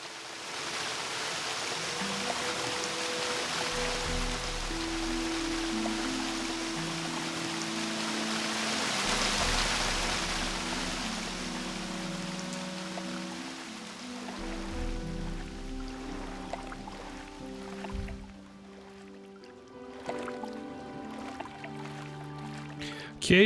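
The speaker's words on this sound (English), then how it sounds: "how loud the waterfall is in some parts" A video-game waterfall in Gothic II rushes as a steady broadband wash of falling water, swelling and fading as the view turns, with soft musical tones layered beneath.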